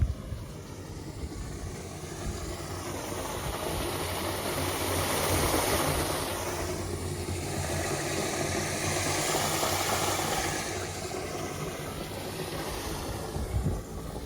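Filtered water pours into a borewell on a farm during rainy weather, a constant broad rushing flow that swells and eases slightly, with no talking.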